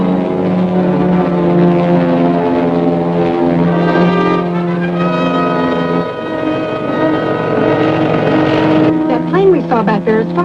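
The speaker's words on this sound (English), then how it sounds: "That plane we saw back there is following us." Propeller plane in flight, a steady loud droning engine hum with strong tonal harmonics that holds throughout, shifting slightly near the end, in a 1949 serial.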